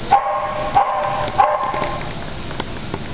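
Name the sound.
dog barking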